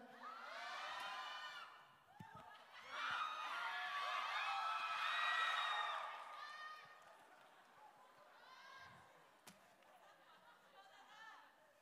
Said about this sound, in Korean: 아름다운 비명이 들리는군요.